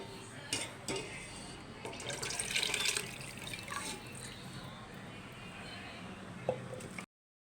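Thick soybean curry pours and slops out of a pressure cooker, giving soft wet glugging and splashing sounds with a brief clink near the end, close and moderately quiet, with no talk.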